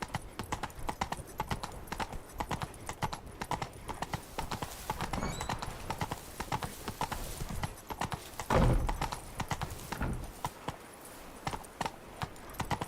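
Roach, Geralt's horse in The Witcher 3, gallops with a steady, rapid clip-clop of hoofbeats under game ambience, with a brief loud thud partway through and a short whinny; no one speaks.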